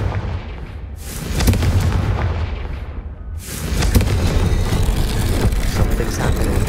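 The Confringo fire spell goes off in Hogwarts Legacy as a loud, booming blast with a sustained crackling roar, one burst followed by a second heavy surge of explosive noise.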